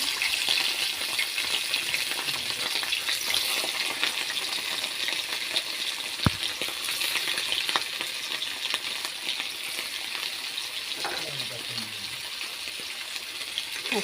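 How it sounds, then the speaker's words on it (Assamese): Small fish frying in hot mustard oil, a loud continuous close sizzle and crackle lasting the whole stretch, with a sharp clink and light stirring sounds now and then. "আৰু তেলখিনি গৰম হৈ অহাত মই মাছকেইটা দি দিছোঁ।"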